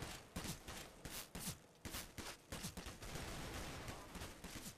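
Repeated gunshots in CS:GO on the Dust II map, a string of sharp rifle cracks spaced irregularly across the stretch, fairly faint and mixed with footsteps and background game noise.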